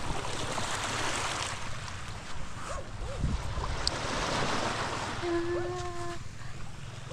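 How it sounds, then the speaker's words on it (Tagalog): Sea waves wash onto the shore of an island beach in the late afternoon, a steady rushing surf with gusty wind noise buffeting the microphone, while faint voices sound briefly in the background. "Ang dagat oh."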